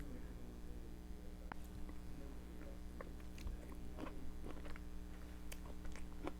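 Biting and chewing a peanut butter chocolate ice cream sundae with sprinkles and peanuts, heard as scattered soft close-up crunches and wet mouth clicks over a steady low background hum.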